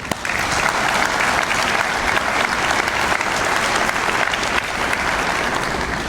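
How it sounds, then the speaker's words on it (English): A large breakfast audience at a school district event applauds for teachers and administrators, a loud, dense, steady round of clapping that fills the whole stretch without pause. "I'd like you to give a round of applause to all of the teachers and the administrators who are here"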